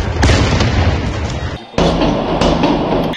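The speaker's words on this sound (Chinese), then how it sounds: "警察立刻开枪回击。" Gunfire and explosions crack during a riot in Almaty, Kazakhstan: dense, loud bursts of sharp reports run nearly continuously, broken by one brief lull.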